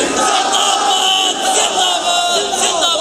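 A large crowd at a religious gathering roars a slogan in unison, a dense, loud wall of voices sustained for a few seconds without pause.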